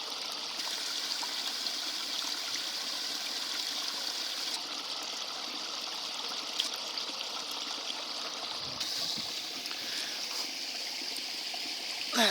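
Water trickles and burbles steadily across Ilkley Moor, a continuous soft stream sound heard close up with no voices, holding an even level throughout.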